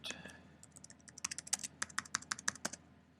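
Fingers type a username and password on a computer keyboard, a quick run of sharp, close key clicks that builds into a steady rhythm over low background noise.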